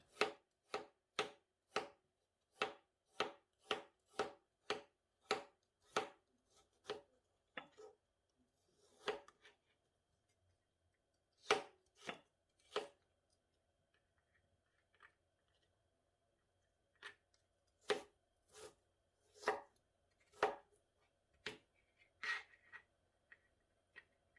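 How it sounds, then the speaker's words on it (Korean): A knife slices fresh ginger thinly on a cutting board in a steady rhythm of crisp, close chops, pausing briefly midway before the cutting resumes. "생강을 먼저 얇게 썰어주세요"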